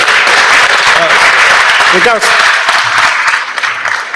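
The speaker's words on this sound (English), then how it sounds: "Let's give them a round of applause before we get started." Applause on a state Senate floor in Mississippi honoring a champion family: sustained clapping from the chamber that fills the room, with a few voices and murmurs mixed in before it tapers off.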